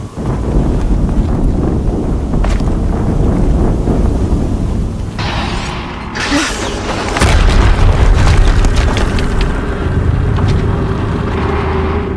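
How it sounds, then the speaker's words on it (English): Explosions in the video game Horizon Zero Dawn boom with deep, rumbling low-end bursts over a continuous wind-like roar, with a louder blast partway through and no speech. "Another explosion."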